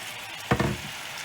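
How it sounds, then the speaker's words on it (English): Cabbage stirred into bacon grease in a pan over low heat: a short scraping stir with a burst of sizzling over a soft, steady frying hiss, close and fairly quiet. "stir it in there with all that nice bacon grease"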